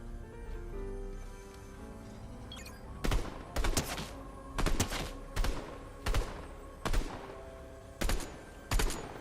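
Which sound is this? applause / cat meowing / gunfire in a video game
gunfire in a video game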